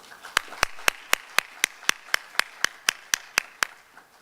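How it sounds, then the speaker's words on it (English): Audience at a men's conference on positive masculinity clapping in a slow, even rhythm of about fifteen single claps, close and fairly quiet, like a few people rather than a full ovation. "A round of applause."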